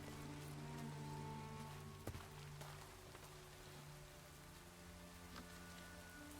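Rain in the Minecraft video game patters softly and steadily at low level, a faint continuous hiss with scattered drop ticks under a quiet sustained tone.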